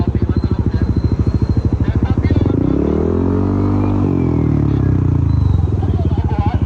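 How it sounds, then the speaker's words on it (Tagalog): A motorcycle engine, close and loud, idles with a rapid pulsing beat, then revs up as the throttle opens, pitch rising and falling before dropping back. "Okay, up throttle mo kuya."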